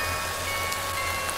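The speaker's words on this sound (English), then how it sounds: "And it's raining." Steady, even rain in the Minecraft video game, a dense hiss of falling water with a faint low hum beneath, continuous and unbroken throughout.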